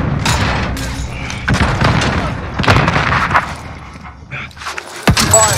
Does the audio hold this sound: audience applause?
no